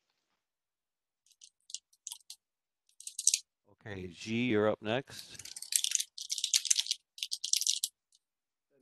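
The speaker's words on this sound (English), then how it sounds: "Whoever's typing, please mute." Keyboard typing comes through an open microphone on an online working group meeting, light clicking bursts scattered before and after a person speaking briefly.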